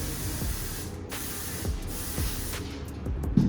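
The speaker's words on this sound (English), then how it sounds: "do one final spray" Several short hissing bursts of an aerosol hairspray, repeated at a quick uneven rhythm, close up, with faint rustling between them and no talking.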